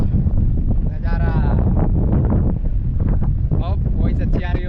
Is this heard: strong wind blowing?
yes